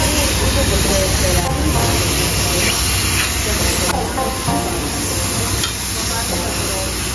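Meat fries on a Korean barbecue grill at a restaurant in Athens, giving a close, loud, continuous sizzle with spitting crackles and occasional stirring, over faint murmured voices.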